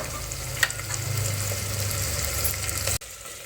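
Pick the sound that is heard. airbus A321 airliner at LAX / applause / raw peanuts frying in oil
raw peanuts frying in oil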